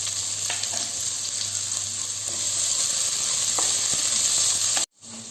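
Chopped onions with whole spices such as cloves and star anise sizzle steadily in ghee and oil, a dense continuous hiss with faint stirring clicks, close and fairly loud, before cutting out abruptly near the end.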